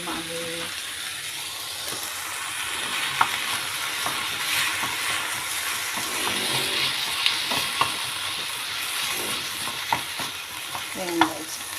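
Tuna frying in a pan for tokwa sisig: a steady, close sizzle of hot oil with scraping and stirring clatter from a spatula, and a few sharp clicks and knocks against the pan.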